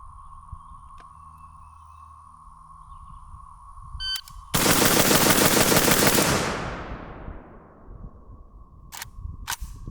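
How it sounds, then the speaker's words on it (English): Palmetto State Armory Krink rifle fired as fast as possible: after a quiet electronic hum, a loud, dense burst of rapid shots erupts for about two seconds, then decays into ringing echoes and a few faint clicks. "the last thing I'm gonna do is just dump these rounds. I wanna go as fast as possible"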